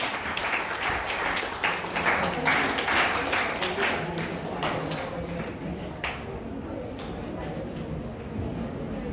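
At a school foundation day celebration, an audience applauds a prize winner with steady clapping of moderate loudness, individual claps standing out near the start before it thins toward the end.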